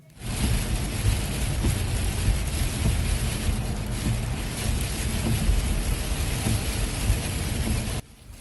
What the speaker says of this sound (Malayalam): ഖത്തറിലും വ്യാപകമായി ഇടിയോട് കൂടിയ മഴയാണ് ലഭിച്ചത്